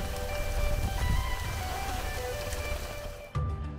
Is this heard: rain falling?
yes